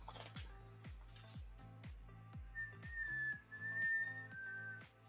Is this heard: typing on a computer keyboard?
no